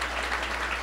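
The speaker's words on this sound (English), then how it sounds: "Y'all can clap for Black women." A brief burst of audience applause during a live conversation event, a dense, even patter of many hands heard for under a second.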